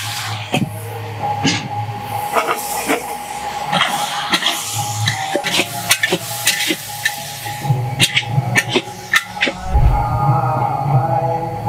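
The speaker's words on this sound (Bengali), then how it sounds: "এটা আমি একটু ফোড়ন, একটু লঙ্কা আর একটু তেল দিয়ে এটা আমি নেড়ে নিলাম" Bottle gourd leaves are stirred in a pan with spices, chili and oil, giving repeated close scraping strokes over a steady soft sizzle with no talk.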